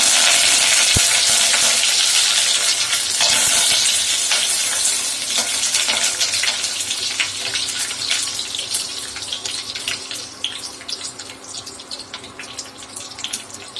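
Curry leaves crackle and sizzle in hot oil in a home kitchen, starting as a loud, dense spitting hiss that slowly thins into scattered pops and crackles, with no talking.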